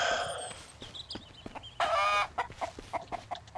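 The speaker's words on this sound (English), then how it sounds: "I'll grab my 3rd chicken" Video game chickens in Mist Survival clucking in a burst of short, repeated calls, with a louder squawking flurry in the middle, close and clear over faint background ambience.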